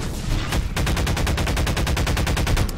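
Rapid automatic gunfire fires at zombies in the Garry's Mod video game, a loud, steady machine-gun burst of evenly spaced shots lasting nearly three seconds with no speech.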